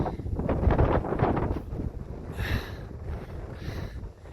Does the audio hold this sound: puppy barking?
no